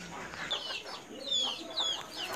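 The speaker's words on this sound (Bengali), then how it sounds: "এই যে আমার হাঁস মুরগি সব বিকাল হয়ে গেছে, বাড়িতে আসছে, ওদেরকে খাবার দিচ্ছি।" Hens come home in the late afternoon for feed on a rural Bangladeshi homestead, clucking close by in short repeated calls, with a few high chirps mixed in.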